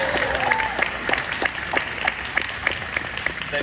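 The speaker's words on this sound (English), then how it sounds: "Round of applause for the teachers of America." Applause from a Comic-Con panel audience honoring teachers: steady clapping from a crowd filling the room, close and continuous, with a voice faintly underneath.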